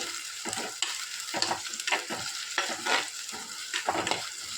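Onions sautéed in a pan for an onion curry: rhythmic scraping stirs about twice a second over a continuous close sizzle.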